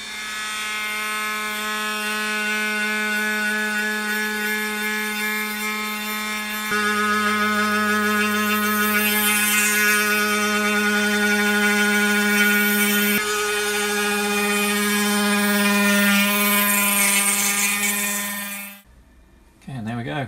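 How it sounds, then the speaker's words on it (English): A machine cuts a keyway into a pulley bore in a workshop, a steady tonal mechanical drone with shifting pitch steps that runs for most of the span before stopping abruptly. "let's get the pulley set up, center on that bore,"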